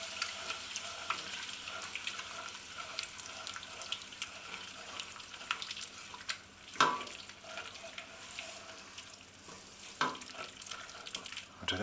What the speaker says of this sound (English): and then give that a good stir